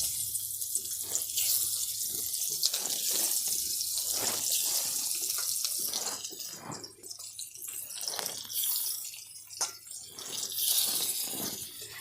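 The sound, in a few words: rohu fish frying in hot oil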